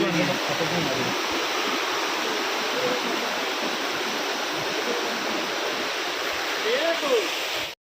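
A jungle waterfall high on a mountainside at Kanching Templer's Park in Selangor, Malaysia, roars as a steady, loud broadband wash of falling water that fills the whole stretch without letup.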